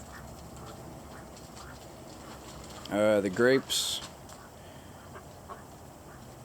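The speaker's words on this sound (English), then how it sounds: "Let the ducks go by." A short burst of loud, nasal duck quacks rises briefly over a quiet outdoor background with someone speaking.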